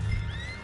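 Horse in Red Dead Redemption 2 giving a short, close neigh with a rising whinny tone, over a low rumble of ambient noise.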